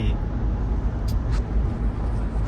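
Steady road traffic noise heard from inside a moving car in congested traffic, a continuous low rumble with a couple of faint hissing bursts, like passing vehicles or air brakes.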